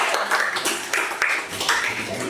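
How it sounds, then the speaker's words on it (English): An audience at an awards felicitation ceremony applauds, a dense wash of many hands clapping steadily and fairly close, with no talk over it. "So I want you to give a huge lot of applause to both our"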